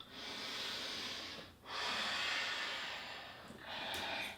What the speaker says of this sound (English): Breathing all that good stuff out.